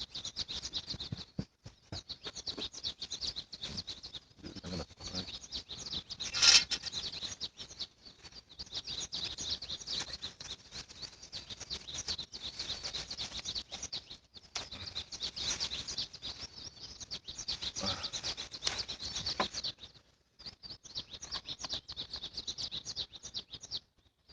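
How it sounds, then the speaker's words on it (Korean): Birds chirp steadily at a campsite in Bisugumi, a bright continuous chorus at moderate distance with no talk over it. "새들 소리를 들으면서 아메리카노 커피를 먹어보겠습니다."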